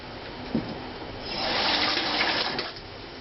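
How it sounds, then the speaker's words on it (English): A kitchen tap runs water over a pork loin steak, a steady rushing stream swelling for about a second and a half after a brief knock, then easing off; no one talks. "Rinse it off, of course."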